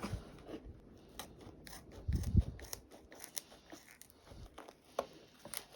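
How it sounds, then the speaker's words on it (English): Sharp scissors snipping through the fabric of a patrol cap during DIY tailoring, a close series of irregular crisp cuts and rasping blade strokes with no talk. "I got some actual scissors now"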